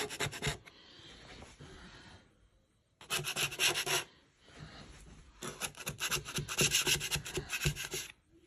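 A scraper works painter's putty on a repair with rough, rasping strokes in two longer bursts and a short one, close and fairly quiet, with gaps of near silence between.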